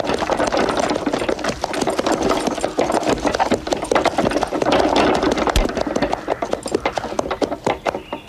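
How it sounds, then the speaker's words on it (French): Horse hooves clip-clop steadily with a carriage, making a loud, close stream of rhythmic clopping and rattling over several seconds, with no talking. "Vous pouvez rentrer le cheval."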